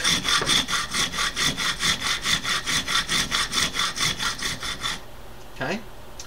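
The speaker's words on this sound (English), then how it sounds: "And you can just rub the piece here on the rock." A bone fish hook is rubbed back and forth on a piece of sandstone, a close, rhythmic gritty scraping of about twenty even strokes that stops abruptly, followed by quiet.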